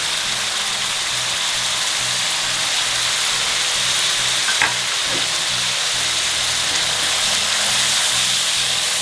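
Tomato and tomato puree fry in a pan with a steady, loud sizzle and hiss that runs unbroken, with a faint stir or scrape partway through.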